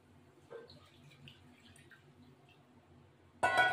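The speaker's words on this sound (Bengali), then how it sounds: "জলটা গরম জলটা দেবো" Hot water goes into a mutton curry, a sudden loud close splash and gush near the end after a quiet stretch of faint drips and clinks.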